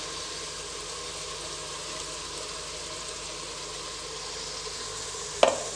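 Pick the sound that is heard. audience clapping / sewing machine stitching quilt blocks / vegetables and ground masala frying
vegetables and ground masala frying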